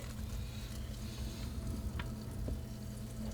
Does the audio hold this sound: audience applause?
no